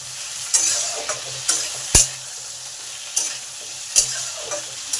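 Potato and pointed gourd fry in a pan with a steady sizzle, punctuated by sharp clanks of a spatula scraping and stirring every second or so.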